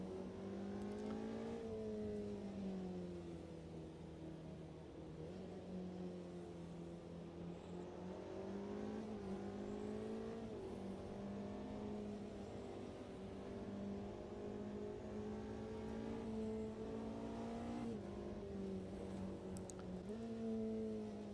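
Porsche race car engine in a racing video game during a 24-hour Le Mans endurance event, droning steadily at high revs for the whole stretch with slight pitch swells, loud and continuous with no talk.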